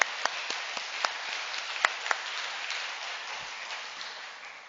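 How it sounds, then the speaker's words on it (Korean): A church congregation on Children's Sunday claps in thanks: a soft, scattered patter of hands with a few sharper individual claps standing out early on, fading toward the end. "우리 아름답게 장식해 주신 우리 권사님을 위해서 박수 한번 할까요?"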